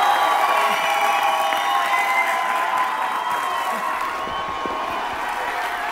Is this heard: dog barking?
no